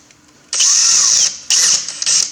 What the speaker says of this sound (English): then I run a drill down